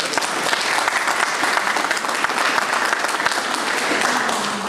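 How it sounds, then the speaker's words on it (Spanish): Loud, sustained applause from a large audience honoring a doctor at a book presentation on social security law, dense steady clapping filling the whole stretch without a break. "Pido por favor un fuerte aplauso para el doctor"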